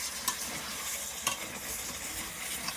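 Mangsho kosha, a Bengali meat curry, sizzling steadily in a pot, with a few brief scrapes and knocks as it is stirred, close by.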